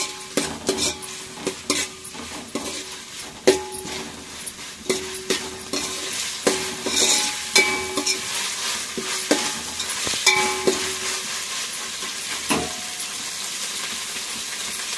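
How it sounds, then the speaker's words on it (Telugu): Ginger garlic paste frying in oil for bagara rice, a steady sizzle broken by repeated sharp scrapes and clinks of a spoon stirring the pan, close and alone without speech. "అల్లం వెల్లుల్లి పేస్ట్ పచ్చివాసన పోయే వరకు వేసుకోవాలి."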